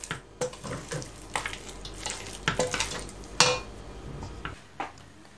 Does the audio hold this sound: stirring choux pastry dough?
yes